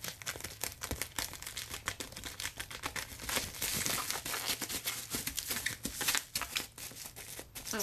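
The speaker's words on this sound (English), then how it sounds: "I just don't want to puncture the bag on the inside, so cut that open." Plastic candy bag being cut open while filling candy machines, a steady run of crinkling and snipping rustles close up, with no talking.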